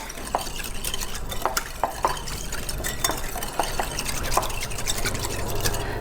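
Water and oil being whisked together in a bowl for a vegan chocolate cake batter, a steady liquid sloshing with repeated sharp clicks and taps of the utensil against the bowl, close and fairly loud.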